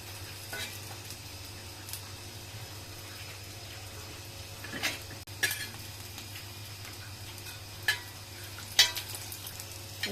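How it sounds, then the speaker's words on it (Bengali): An egg frying in a pan makes a soft, continuous sizzle under a low steady hum, with occasional clinks and scrapes of a utensil against the pan. "এরকম করে আমার ডিমটা ভাজা হইলো"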